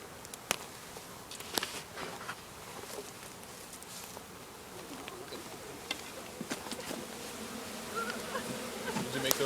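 A honey bee swarm buzzes around wooden hive boxes on an organic farm. The soft, continuous hum has scattered louder buzzes as bees fly close, and it builds slightly toward the end.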